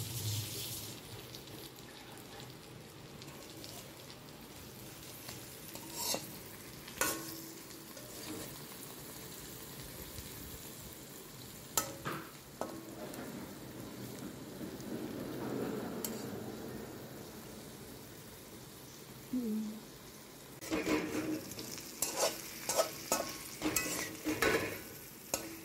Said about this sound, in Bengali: চিংড়ি মাছগুলো দিয়ে একটু কষাবো